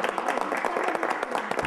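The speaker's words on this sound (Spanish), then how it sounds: "un aplauso para Alicia" A class of students applauding together during a first-aid lesson on burns, a close, busy patter of clapping hands with distinct individual claps and some voices mixed in underneath.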